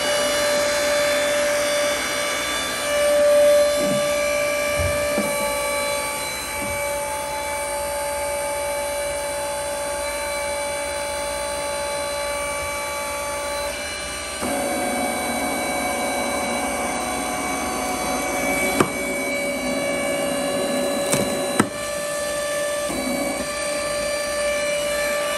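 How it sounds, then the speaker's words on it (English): A Dayton 3 HP hydraulic power pack pump on 230-volt three-phase power runs with a steady, loud motor whine and hum, holding a constant drone with a few brief clicks and shifts in pitch. "Okay, that is the Dayton hydraulic pump."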